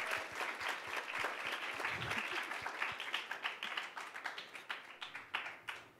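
An audience at a panel on the 2016 presidential election applauds to welcome a newspaper news editor, a full burst of many hands clapping that thins into scattered claps as it fades.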